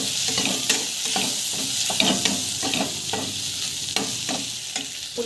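Okra sizzles in a hot frying pan while a utensil stirs and scrapes at irregular intervals, close up, with no talking.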